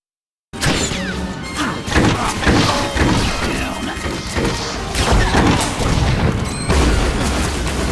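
Blaster fire and explosions from a battle in Star Wars: The Old Republic, with dense, loud booms and cracks in a continuous volley, and voices mixed in.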